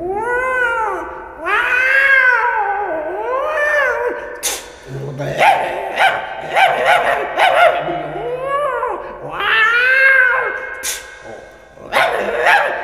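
Voices mimic a squabble of meowing and barking, rising yowls trading with sharp yelps, then a yelping run-off; close and loud with brief gaps.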